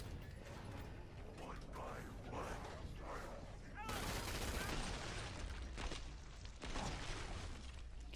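Rapid, sustained P90 submachine-gun fire in the shooter Killing Floor 2, loud and continuous bursts in a busy game mix, with a voice talking over parts of it.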